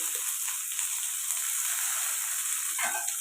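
Garlic and shallots sauté in a hot pan with a steady, close sizzle throughout and a brief stir or scrape near the end.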